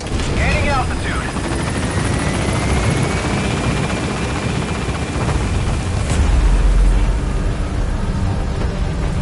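Helicopter in the video game Metal Gear Solid lifting off and gaining altitude, a loud steady rotor drone and rumble that fills the whole stretch, with a deep boom near the end.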